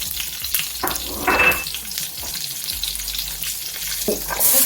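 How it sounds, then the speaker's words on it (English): Cumin seeds and chilies crackle and sizzle in hot oil while dal is being made, a steady frying hiss with brief louder bursts, close and without any talking. "When the oil's hot enough, cumin seeds, chilies for about 30 seconds and then add your onions."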